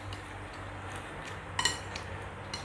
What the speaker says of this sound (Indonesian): Aduk dulu.